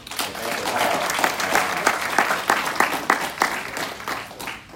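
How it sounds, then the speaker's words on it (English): At a college affordability town hall, the audience applauds student panelists, a building wash of clapping that grows uneven, with distinct individual claps punctuating it before it fades out. "Let's give them a round of applause."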